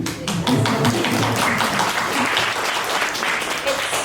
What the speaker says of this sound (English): I just want to give you a round of applause.